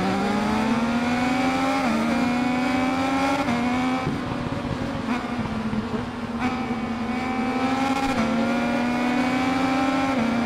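A Triumph motorcycle in RIDE 5 revs hard off the race start, its engine pitch climbing steadily through several gear shifts, loud and close with no talking.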